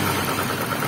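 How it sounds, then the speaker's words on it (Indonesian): Suzuki Ignis engine with a worn bearing running close by, a rough, continuous droning rumble with a faint rhythmic snoring pulse tied to engine speed. "ini untuk suaranya ini berirama dengan suara mesin atau putaran mesin begitu ya"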